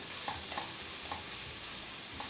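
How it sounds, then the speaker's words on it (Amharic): Spices for Ethiopian alicha stew of potato and meat frying in a pan, a faint steady sizzle with a few soft stirring scrapes, no voices. "እንደዚህ ቆንጆ ሽታ እስከሚያመጣልኝ ድረስ ጥብስ አደርገዋለሁ"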